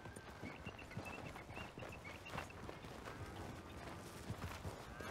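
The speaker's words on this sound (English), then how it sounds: "Oh, he gets his own little horse." Horse hooves clip-clop at a steady walking pace in the Red Dead Redemption epilogue, moderately close beneath game ambience, with light background texture and no talking.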